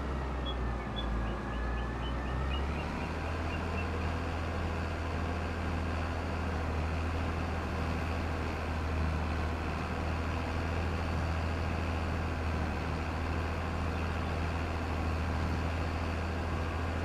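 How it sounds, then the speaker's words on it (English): A modded tractor's engine in the video game Farming Simulator revs briefly, then drones at a steady low pitch with a constant mechanical hum, moderately loud and unbroken. "I gotta say, the sounds sound pretty good on this tractor."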